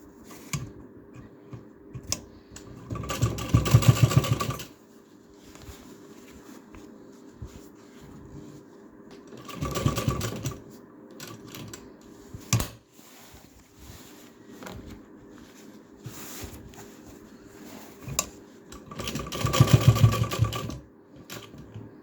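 A sewing machine stitches a button placket on a garment, running in three separate bursts of a few seconds each, with quiet gaps between them and no talking.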